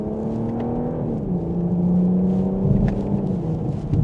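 A 2025 BMW M440i Gran Coupe in sport mode, second gear, accelerates mildly, its engine note a smooth, moderately loud hum that steps down in pitch at a shift, then climbs again.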